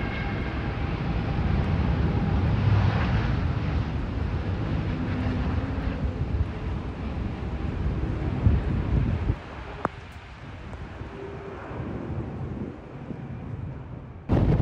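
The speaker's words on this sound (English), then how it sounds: "This Gulf Air Boeing 787 is about to show us what true courage looks like. Facing a relentless crosswind, it performs a one-wheel landing" A Gulf Air Boeing 787 comes in to land in a strong crosswind, heard as a loud, steady roar of wind buffeting and engine noise that holds throughout, easing slightly near the end.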